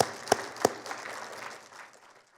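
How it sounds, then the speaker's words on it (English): Audience at a talk on pesticides applauding, with a couple of sharp near claps at the start, then a brief spatter of clapping that thins and fades within two seconds. "He really deserves a round of applause."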